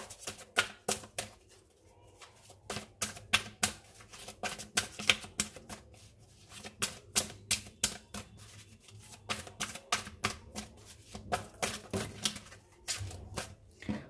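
Tarot cards are drawn and shuffled from a deck, a rapid run of crisp flicking snaps in irregular bursts, close and fairly faint, with no talk.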